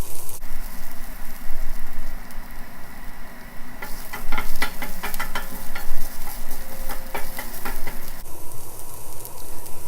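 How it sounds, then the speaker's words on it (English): Onions roasting in a pan for curry paste, a soft steady sizzle throughout with a burst of scraping stirring in the middle, heard up close with no talk. "We just want to dry the moisture from the onion as much as we can. That's the reason for roasting it."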